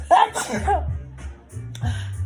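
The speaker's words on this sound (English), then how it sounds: "If I gotta sneeze, hold on." A single sharp sneeze bursts out near the start, followed by low murmuring voices and a brief shuffle.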